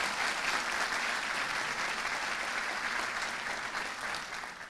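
Sustained audience applause at the closing ceremony of a Haitian Model United Nations conference, many hands clapping in a dense, even wash that holds steady and tapers slightly at the end.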